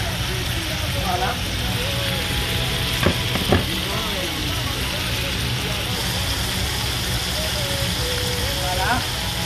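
Food browning in a pan sizzles and crackles steadily throughout, with a couple of brief scraping stirs partway through and a voice talking over the frying.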